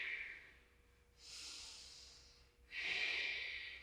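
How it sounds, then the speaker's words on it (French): Two slow, deep exhalations, one after another, close and soft, with a quiet gap between them, from someone pacing their breath through a workout. "On inspire et on expire."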